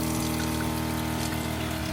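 Water runs from a newly plumbed kitchen sink in a Renault Trafic van conversion, a steady close rush with a humming pump tone beneath it, continuous and even for the whole short stretch.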